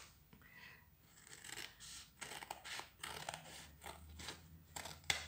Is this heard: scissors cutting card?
yes